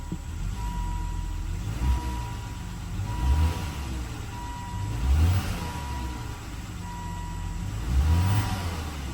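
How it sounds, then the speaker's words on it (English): A Volvo S80 engine with a cold air intake idling close by, with a few short revs rising in pitch at regular intervals and a faint repeating beep in the background. "it's time to rev the race car"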